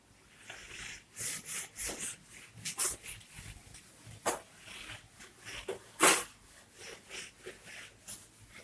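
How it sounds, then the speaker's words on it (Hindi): Someone rubbing a classroom board to erase it, a run of soft, quick scrubbing strokes, quiet and close, in irregular bursts. "इसको मैं रब कर देता हूं।"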